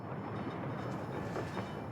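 A workers train passes steadily in the city-building game Workers & Resources, making a continuous low rumble with faint rhythmic rolling and clatter.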